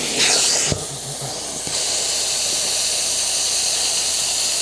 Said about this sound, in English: So what we're using right here is hot steam